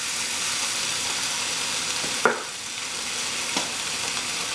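Soy sauce hits a sizzling cassava mixture in a hot pan, a steady loud fry hiss with a sharp splashy burst as the liquid lands and a smaller stir clink a moment later.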